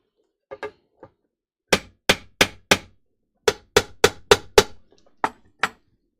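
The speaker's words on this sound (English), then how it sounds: "Sometimes you need to use a hammer." Hammer blows on a 1978 Fender Stratocaster guitar: a few faint taps, then sharp, close strikes in short rhythmic runs of four and six, ending with two spaced hits, with silence between them.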